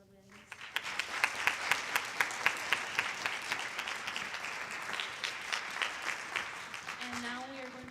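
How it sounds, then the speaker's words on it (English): An audience applauds at a 2024 high school fine arts awards night, with steady, fairly loud clapping and a rhythmic pulse of sharper claps running through it, fading out near the end as a voice returns. "And another round of applause for these two lovely ladies."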